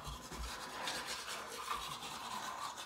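Teeth scrubbed with a toothbrush and toothpaste during a cold-water mouthwash challenge: a steady, close, raspy bristle scrubbing that continues without pause, with no talking.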